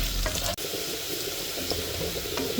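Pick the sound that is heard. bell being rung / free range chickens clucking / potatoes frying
potatoes frying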